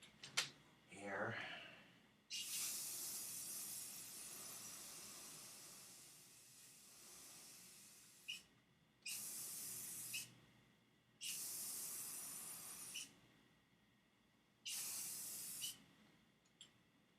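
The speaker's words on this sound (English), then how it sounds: "But, grab my trusty spray paint. I'm going to paint my wand" Spray paint can hissing in four long bursts of several seconds each with short pauses between, coating craft wands over a trash can, close and fairly loud; a faint breathy sound comes first.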